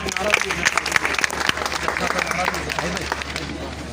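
Employees applaud for the medical superintendent of Civil Hospital Karachi, a dense, steady patter of many hands clapping that continues throughout with some voices mixed in.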